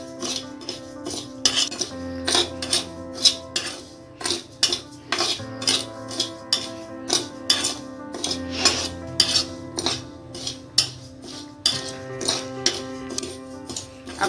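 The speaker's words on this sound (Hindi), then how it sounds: "दलिये को बिना घी बिना तेल डाले ऐसे ही भूनेंगे" Broken wheat (daliya) dry-roasted in a kadhai without ghee or oil over a low-medium gas flame, with a spoon scraping and clinking against the metal in an irregular stirring rhythm throughout, close and clear.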